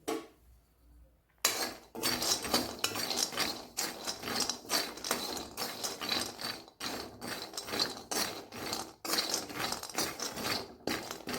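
Peanuts being dry-roasted in a pan over low heat for jaggery peanut laddoos, heard as a steady run of rattling, scraping clatter as they are turned, continuing with short pauses after a quiet opening.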